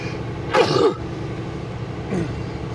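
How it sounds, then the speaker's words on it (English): One sharp sneeze bursts out close by, followed a moment later by a softer exhale or sniff over a steady low background hum. "Hang on, I'm gonna sneeze."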